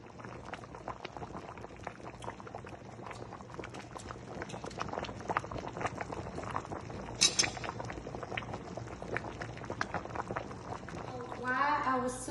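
Pot of Liberian toborsoyee soup boiling on high heat, a dense continuous bubbling and crackling close by, with occasional clinks of a utensil and soft voices toward the end.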